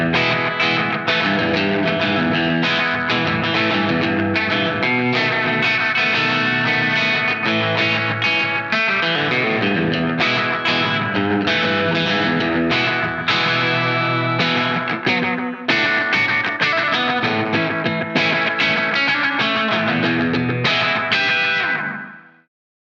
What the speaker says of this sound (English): use the echo control to dial in specific delay times